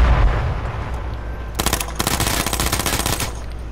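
Rapid automatic gunfire in H1Z1: Battle Royale opens after a quieter stretch, with dense, loud bursts of shots rattling on steadily for about two seconds.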